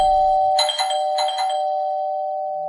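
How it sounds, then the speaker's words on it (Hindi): An electronic doorbell rings twice in quick succession, bright chiming tones over a sustained hum, then the ringing fades. "कि तभी घर की डोरबेल बजी।"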